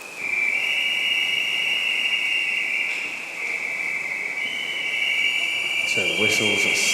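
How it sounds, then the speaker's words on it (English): Steady high whistle blowing at a regional swimming championship race, sustained and loud across the clip with brief overlapping whistle bursts near the end over a busy poolside hall. "whistles sound out"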